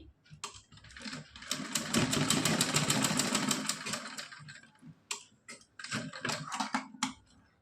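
A sewing machine runs in quick rattling bursts, stitching a net and lace dress: one long steady run of close ticking, then a pause and two shorter runs near the end, loud and close with no talk.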